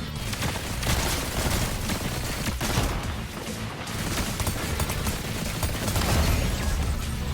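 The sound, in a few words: pulse pistols firing in the video game Fortnite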